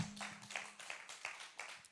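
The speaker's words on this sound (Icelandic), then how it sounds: "gefum honum gott klapp" A church congregation gives a round of applause, soft rhythmic claps at a steady pace with a faint tone at the start.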